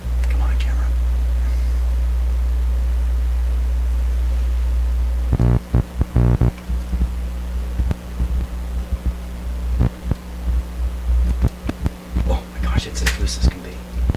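A Sparton 1567 tube radio gives off a steady, loud low-pitched hum, joined after a few seconds by irregular crackles and thumps as a loose socket is handled, with faint talk.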